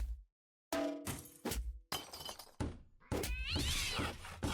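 A cat meows amid a burst of shattering and thudding crashes in a video game, the loud impacts coming in separate chunks after a short silence, with no one talking.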